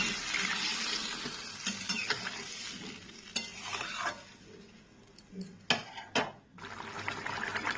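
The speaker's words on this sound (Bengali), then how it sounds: "আমি এবার কিছুটা পরিমাণ জল দিয়ে দিচ্ছি" Water poured into a pan of pumpkin curry simmering with spices, a liquid sizzle and stirring clatter across several seconds, with a couple of sharp louder splashes or knocks near the end, no voices.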